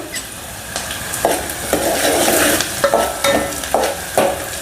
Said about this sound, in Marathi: हे दोन मोठे कांदे मी बारीक चिरून घेतले ते टाकते छान परतून घ्यायचं कढीपत्ता टाकते